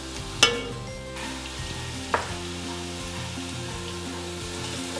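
Onions and chillies sautéing in a pan toward light brown for green peas pulao, giving a constant even sizzle with two brief clicks of a utensil near the start.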